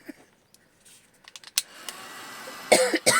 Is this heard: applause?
no